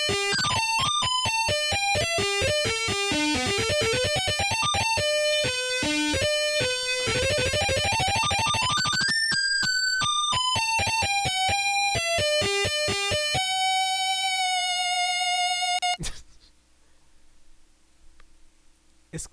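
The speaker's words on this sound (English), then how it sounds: "So you have like real guitars and Soundfont guitars playing at the same time for this." Real guitars and SoundFont guitars play together in a song, forming dense, rapid note runs and chords that end in a sustained tone before cutting off into near silence.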